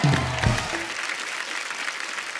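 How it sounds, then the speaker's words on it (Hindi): Studio audience on a Hindi comedy talk show bursts into loud applause that swells at once and stays dense, with a brief shout and music at the start before the clapping fills the room alone. "एक बार जोरदार ताली हो जाए"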